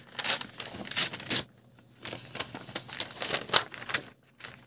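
A paper junk-mail envelope is torn and handled, giving close, loud bursts of crinkling and ripping separated by short quiet gaps.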